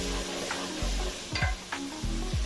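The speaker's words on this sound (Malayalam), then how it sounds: "ഇനി അതിൻ്റെ പച്ച മണം മാറുന്നിടം വരെ നമുക്കൊന്ന് ഇളക്കി കൊടുക്കാം." Ginger, garlic and green chili paste stirred and frying in a pan for fish biryani: a steady close sizzle broken by several scraping stirs of a utensil against the pan.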